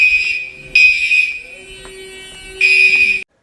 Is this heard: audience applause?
no